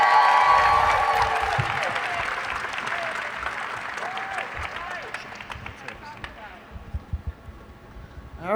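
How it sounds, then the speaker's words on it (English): Warm audience applause at a summer kickoff event, loud clapping with some cheering at first, gradually thinning out into scattered claps and a few voices as it fades. "So let's give a warm round of applause for Dr."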